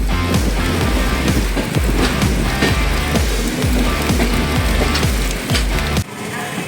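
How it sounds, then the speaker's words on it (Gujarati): Heavy rain pours down in a dense, loud, constant hiss with scattered heavier drumming, then stops abruptly at the end. "વરસાદ તો જો જબરદસ્ત આવી રહ્યો હતો"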